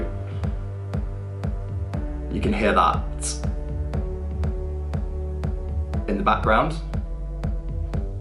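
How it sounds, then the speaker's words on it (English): A remix groove plays with a steady kick, a rolling tom fill and a held, layered bass, looping with clear repeated hits while a person talks over it. "And it has a rolling tom and just a held bass using some different layers."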